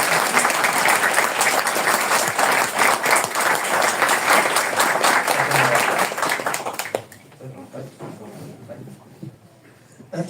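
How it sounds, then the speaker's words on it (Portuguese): An audience claps loudly and steadily for a visiting doctor giving a lecture at a care home, the dense applause running for about seven seconds before cutting off abruptly, leaving faint room noise and a few scattered claps. "uma salva de palmas para você"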